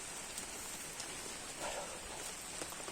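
Steady rain falls over a rural village, a constant soft hiss of drops on surfaces with no voices, even and moderately close throughout.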